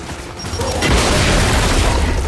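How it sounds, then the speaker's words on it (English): A frag grenade explodes inside a nest in Gears 5, bursting loud and close into a broad roaring boom that rumbles on for a couple of seconds. "Gotta get a frag in that thing! Frag out!"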